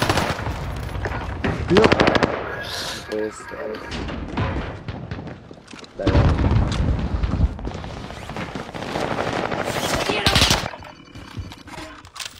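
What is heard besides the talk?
gunfire in a video game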